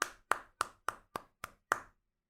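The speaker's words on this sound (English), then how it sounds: "Here is fingers against palm" Seven sharp hand claps, fingers slapped against an open palm, evenly spaced about a third of a second apart, close and crisp with short decays and nothing else around them.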